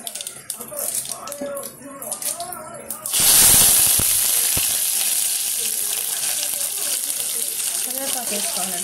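Garlic, mustard seeds, cumin and chana dal hit hot oil for a green chilli pickle. A voice talks over faint kitchen clatter, then a sudden loud sizzle erupts and holds as a steady close frying hiss.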